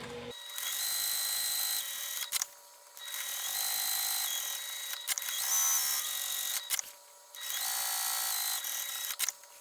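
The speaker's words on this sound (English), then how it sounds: "When sewing down these seams, I'm just going to do 1/8 of an inch away on each side of the seam" A sewing machine top-stitches the seams of a fabric beauty bag, running in several loud steady bursts of high mechanical whirring separated by short pauses.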